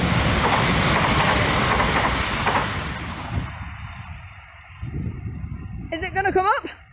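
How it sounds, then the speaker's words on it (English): A train passes a level crossing at Thorpe Willoughby, a loud broadband rumble and rail roar filling the first seconds, then fading away. A voice speaks near the end as the noise settles. "here comes the choo-choo train"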